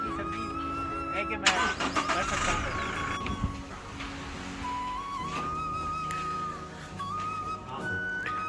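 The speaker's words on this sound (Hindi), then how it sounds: "काशिफ अब भागते हुए जा रहे हैं, दौड़ते हुए जा रहे हैं गाड़ी में ताकि हीटर ऑन कर सकें।" A car engine turns over and starts at about 1.5 seconds, then idles under steady background noise while people talk and whistle nearby, on a cold road trip from Karachi to Gilgit.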